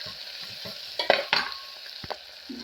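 Chillies frying in a pan are stirred with a utensil, giving a few quick scraping strokes over a steady background sizzle, close by and with no voices.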